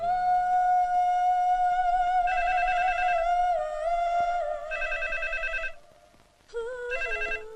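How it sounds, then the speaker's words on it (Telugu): A telephone rings in a Telugu movie scene, with loud electronic ringing tones in repeated bursts after a sustained tone, the rings breaking briefly and then returning. "వెంటనే అల్లుడి గారికి ఫోన్ చేసి చెప్పు"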